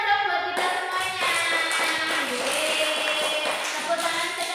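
Children clap their hands together in a steady, dense patter that lasts the whole moment, with young voices cheering and calling out over the clapping in a classroom.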